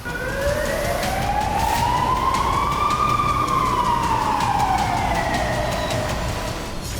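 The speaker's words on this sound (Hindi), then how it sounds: "हालात ऐसे हैं कि इजराइल के कई शहरों में लगातार सायरन बज रहे हैं।" Air raid sirens wail continuously across Israeli cities, pitch slowly rising and then falling, loud and steady with a low road rumble underneath.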